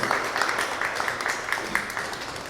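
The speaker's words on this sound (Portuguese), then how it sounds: "Aplausos de boas-vindas para a Daniela." Brief welcoming applause from the audience at a literary event, a soft patter of scattered hands clapping that stays moderately quiet and fairly even across the moment.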